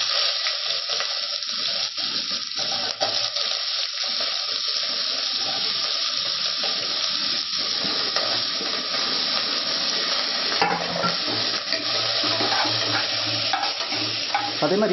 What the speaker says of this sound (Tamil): வெட்டி வச்சுருக்கிற இந்த வெங்காயத்தை நான் அதில் சேர்த்துக்கிறேன்.